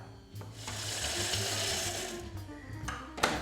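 A Thermomix whirs and chops roasted cacao beans on speed 6 in a brief, steady burst of rattling, gritty blade noise, fairly loud and close.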